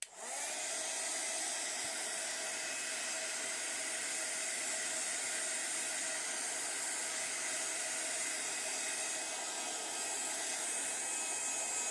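A hair dryer or heat tool blows steadily on a mixed media art panel, a loud continuous whooshing hiss that holds constant from start to finish with no talking.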